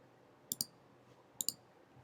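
Two quick pairs of sharp computer mouse clicks, the pairs about a second apart, crisp and close in a quiet room while working in Figma.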